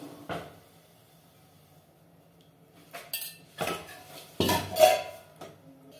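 Milk cake mixture made from milk powder with a little curd is stirred in a pan, giving sporadic scraping and clinking of a spoon against metal that grows busier toward the end, with quiet stretches between strokes.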